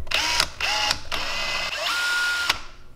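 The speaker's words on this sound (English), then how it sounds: "If I have to drill a hole through this stuff." A small power drill bores through clam shell resting on a sponge, whining in short bursts that start and stop several times, close and fairly loud, with no speech.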